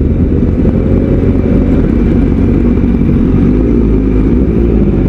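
A Honda Fireblade RR-R SP motorcycle ridden in the rain in a group, its engine a loud, close, steady drone mixed with dense rumbling wind and road noise, continuous throughout.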